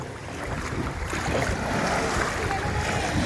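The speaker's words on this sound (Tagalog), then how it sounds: "lakas ang alon" Strong sea waves roll onto a beach at a resort, forming a loud, continuous rushing surge that builds slightly over the few seconds, mixed with wind buffeting the microphone.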